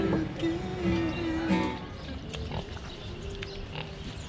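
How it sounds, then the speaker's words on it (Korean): Pigs eating in a street in Jaisalmer, India, giving loud, close, low grunts and snorts in the first seconds, followed by softer rustling and street murmur. "인도에서 돼지 처음 본다."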